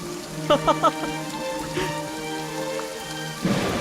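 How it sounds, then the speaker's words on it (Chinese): Rain falling outdoors in a historical drama scene, a steady wash of rainfall throughout, with a few short sharp knocks near the start and a louder surge at the end; no one speaks. "当心着凉，下雨了，下雨了"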